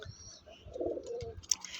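Pigeons, including a black one, cooing softly on a rooftop while being fed, a low murmuring coo swelling in the middle with faint chirps and light rustling around it, no talking.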